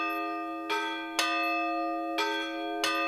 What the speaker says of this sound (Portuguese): Na torre estão os sinos, desde quando a igreja foi inaugurada.